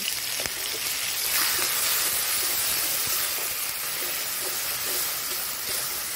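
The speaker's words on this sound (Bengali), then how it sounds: "তেল গরম হয়ে গেছে, আমি এই যে পাঁচফোড়ন দিয়ে দিচ্ছি, লঙ্কা দিয়ে দিচ্ছি, মশলাটাকে দিয়ে দিচ্ছি।" Panch phoron spices and chilies sizzling in hot oil, a steady, loud hiss that holds throughout with scattered small pops and crackles.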